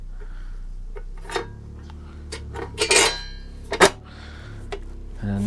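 Motorcycle seat pan dropped into place on the frame, a few sharp metallic clanks and rattles in a quiet workshop with a low hum underneath.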